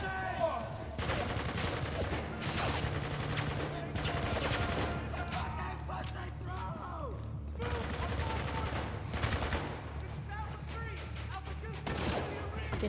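Bursts of gunfire and machine-gun fusillades from a Spec Ops: The Line firefight, dense and sustained, with shouting soldiers talking over the shooting throughout.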